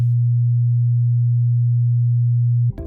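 A pure 120 Hz sine test tone holds steady and loud for nearly three seconds and then cuts off abruptly into a brief burst of other sound.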